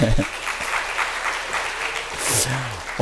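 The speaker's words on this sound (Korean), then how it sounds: "박수 한번 주세요." Church youth audience applause, a short round of clapping that rises and fades while voices talk over it.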